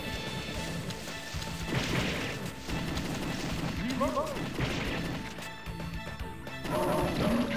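Light-gun shots in the Sega arcade game The House of the Dead, run on a Model 2 emulator: sharp crashing shots pop repeatedly among dense game effects and music, with a voice talking over them.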